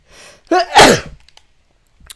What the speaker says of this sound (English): I sneezed my damn face off